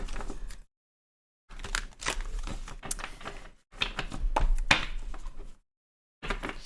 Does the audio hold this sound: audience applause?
no